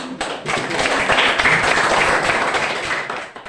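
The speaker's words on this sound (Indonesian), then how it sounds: "Tepuk tangan." A classroom audience of students claps together in a steady, dense burst that swells and holds before tapering off near the end, with no talk over it.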